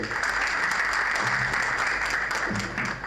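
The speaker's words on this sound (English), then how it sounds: "Please welcome sir with a huge round of applause." Sustained applause from an audience at an institute inauguration ceremony welcoming the director, dense steady clapping filling the whole stretch at even loudness.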